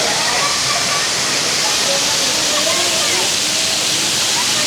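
Water pours steadily from a shower beside a hotel swimming pool, a loud, constant, hissing rush with no break.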